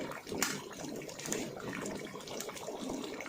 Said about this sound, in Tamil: இந்த சைடில் நம்ம அளந்து வச்ச தண்ணியை ஊற்றிடணும்